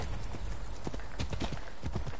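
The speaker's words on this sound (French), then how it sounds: "Donc, le cheval s'appelle Phobos" Hooves of a horse clip-clop in the video game Assassin's Creed Odyssey, a quick, even run of crisp hoof strikes over a soft background bed, with no voices.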